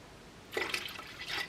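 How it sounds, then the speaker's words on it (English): A small splash of vinegar goes into the water of a pressure canner while dry-canning potatoes, heard as a quick trickle and a few light drips, close and fairly quiet. "I'm going to add a little vinegar to it"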